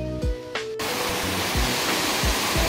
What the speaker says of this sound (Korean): 드디어 높이 한 20m 되는 웅계폭포 앞에 와 있습니다